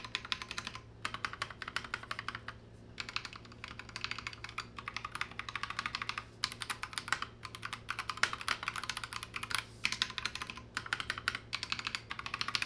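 Typing on an Akko 3068B mechanical keyboard with lubed stabilizers, a quick, continuous clatter of soft keystrokes in uneven bursts with occasional short pauses, close and fairly quiet, no voices.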